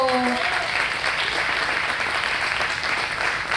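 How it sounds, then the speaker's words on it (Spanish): Audience clapping for a panel at an education event at the Universidad Nacional de La Plata, a brief voice at the start giving way to steady, fairly loud applause that fills the room. "Así que un aplauso"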